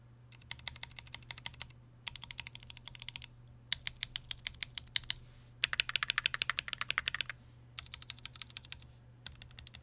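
A stock Keychron Q4 mechanical keyboard being typed on in quick bursts of crisp, clacky keystrokes separated by short pauses, close up and clear over a faint low hum.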